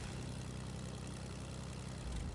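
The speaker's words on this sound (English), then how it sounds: "I want to see what happens when you fly a plane over." A propeller plane flies in a video game, a low, droning engine hum that stays steady and faint throughout with no talk.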